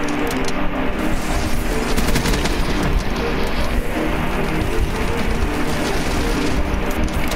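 Rapid, dense video-game gunfire in a first-person shooter match, a near-continuous rattling fusillade of loud shots filling the whole stretch with no pauses.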